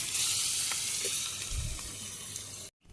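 Fish sizzling in hot oil in a home kitchen, a steady hiss of frying that runs loud and continuous with small pops, then cuts off abruptly near the end.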